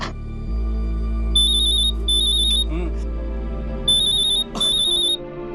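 A phone rings in bursts of electronic trilling tones, two pairs of rings separated by a pause, loud and close, with a voice talking briefly in between.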